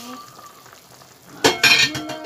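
Snakehead fish slide into hot oil for a radish curry, setting off a sudden loud burst of sizzling and spitting after a quieter low simmer, close by with no voices.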